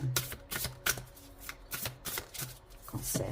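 Tarot cards are handled and laid out on a table, with repeated quick shuffling and flicking sounds in an uneven rhythm, close up and without talk.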